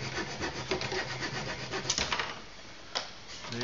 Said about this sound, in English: Once the wing rib's out of the jig, you can then cut the excess